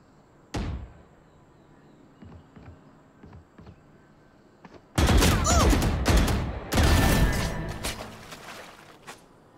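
Bursts of gunfire from the game Valorant, a quiet opening with a sharp shot and a few light clicks, then dense loud volleys of rapid shots for the final five seconds.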